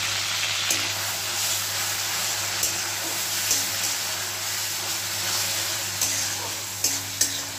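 Grated onion frying in a pan over a low flame, a steady close sizzle with occasional soft stirring clicks and scrapes throughout.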